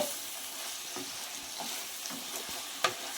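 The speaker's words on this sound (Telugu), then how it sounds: "మెంతాకు ఎక్కడ కనపడకుండా ఎంత బాగా ఫ్రై అయిపోయిందో చూసారా" Chicken curry with fenugreek leaves and spices sizzles softly in a pan with scattered stirring scrapes and one sharper clack near the end, with no voices.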